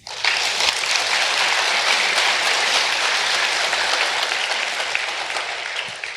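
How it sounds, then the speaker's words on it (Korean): Sustained encouraging applause from a large audience at a Buddhist monk's question-and-answer talk, steady dense clapping throughout without speech on top. "격려 박수 한번 부탁드립니다."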